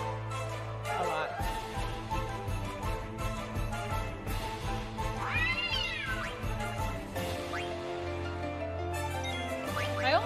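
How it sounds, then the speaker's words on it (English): A cat character meows in Final Fantasy IX, rising chirpy cries heard twice amid game music and ambient tones, with some talk alongside. "this cat thinks I'm gonna give it to it."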